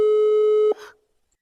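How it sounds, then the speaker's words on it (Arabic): A telephone busy signal plays over a speakerphone as a single loud, steady tone that cuts off abruptly with a faint click, followed by near silence. "هنكلمها على التليفون. نفتح الريسبيكر"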